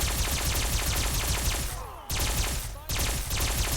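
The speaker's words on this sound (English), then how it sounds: "since it has the fusion core, it becomes an automatic shotgun" Fusion-core-powered automatic shotgun in Fallout 4 firing rapid continuous bursts, loud and close, with two brief pauses breaking the stream of blasts.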